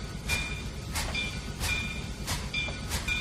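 Simulated C&O steam locomotive in Trainz 2019 climbing a grade, steady rhythmic chuffs about every two-thirds of a second over a low rumbling background, no talking.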